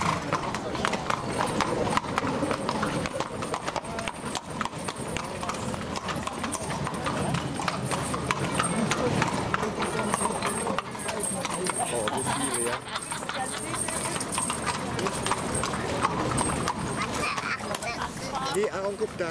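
Many horses clip-clopping at a carriage parade during a horse festival, dense overlapping hoofbeats on pavement heard steadily throughout, with people talking nearby and crowd murmur.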